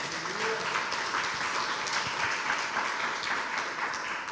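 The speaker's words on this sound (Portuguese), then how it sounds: "Aplauda Jesus." Church congregation at a Portuguese-language service applauding, a continuous, even roar of many hands clapping at steady volume.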